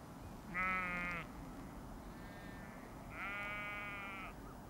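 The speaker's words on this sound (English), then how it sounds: "The island sheep, which provided the basic meat diet." Island sheep used for meat on a remote Irish island bleat twice, a nearby wavering cry followed after a pause by a longer second bleat, over steady low background hiss.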